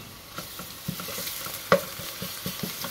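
Ginger garlic paste sautés in a hot pan for a chicken and apple gourd curry, a soft continuous sizzle broken by light scraping strokes and one sharper clack of a spoon.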